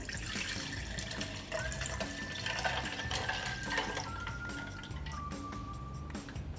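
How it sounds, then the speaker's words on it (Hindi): Milk pours into a blender jar over ice cubes for a paan shake, a continuous rushing, splashing stream at close range. No voices. "पान शेक बनाने के लिए सबसे पहले जार में आइस क्यूब्स डालेंगे, मिल्क डाल देंगे"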